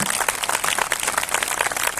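Audience applause fills a church gathering, a dense, steady wash of clapping from many hands held at an even level for two seconds with no voices on top.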